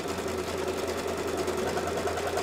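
An embroidery machine stitches light gray isacord thread through fabric and flannel with an Organ 75/11 needle, a steady, even mechanical hum with a low motor drone and fast regular needle pulses, close and continuous.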